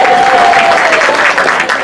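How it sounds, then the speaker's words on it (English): A crowd gives a loud, close round of applause at an inspirational talk, the clapping dense and continuous with a faint tone and some voices mixed in. "let's give a round of applause"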